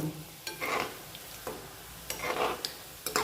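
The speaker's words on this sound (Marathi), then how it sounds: "पाच सहा गोळे मी अशा तेलामध्ये सोडते आहे खूप गोळे एकदम सोडू नका आणि लगेचच असं हलवून घेते आहे" Gulab jamun balls made from wheat flour fry in hot oil while being stirred, giving soft bubbling sizzle broken by several distinct scraping stirs and light taps against the pan, close and moderately quiet.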